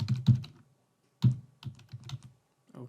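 An email address is typed on a computer keyboard in short, close bursts of clicky keystrokes, separated by brief pauses in an otherwise quiet room.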